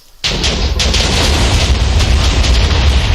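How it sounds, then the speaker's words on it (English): Compact TNT in the Minecraft TooMuchTNT mod sets off a dense chain of explosions, merging into a loud, continuous roaring rumble that starts abruptly and keeps going. "So many explosions."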